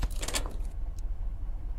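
A short metallic jingle of keys unlocking a cabin door in a video game in the first half second, then quiet with a low steady rumble underneath and a faint click.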